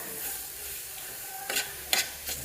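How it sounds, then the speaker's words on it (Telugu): Carrots fry in ghee with a soft, steady sizzle, then a few sharp stirring scrapes toward the end. "కొద్దిగా నెయ్యి వేసుకొని మనం ఈ విధంగా క్యారెట్ అయితే ఫ్రై చేసుకోవాలన్నమాట"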